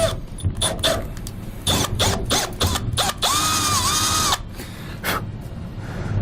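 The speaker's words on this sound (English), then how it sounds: "We're going to drill through our 4 corners up through the roof." A 9/32 drill bit bores up through the sheet-metal roof of a 2017 Ford van, a close, loud whining drill run in short bursts and then one sustained steady pass with a rising pitch, then a final brief burst.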